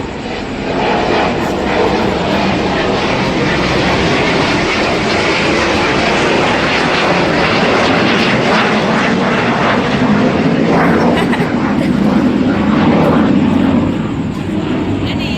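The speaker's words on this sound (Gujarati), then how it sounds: "અરે આ પ્લેન" A fixed-wing airplane passes overhead, a loud, steady engine drone that fills the whole stretch outdoors, with faint voices in the background.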